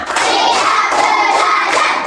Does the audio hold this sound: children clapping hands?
yes